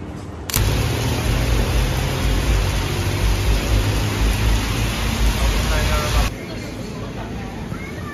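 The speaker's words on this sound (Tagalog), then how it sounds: "Dahil umuulan." Steady rain falls at an outdoor market in Thailand, a loud broad hiss that starts abruptly and then eases to a quieter patter near the end, with crowd babble faintly mixed in.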